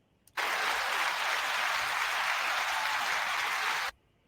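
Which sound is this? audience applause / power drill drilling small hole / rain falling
audience applause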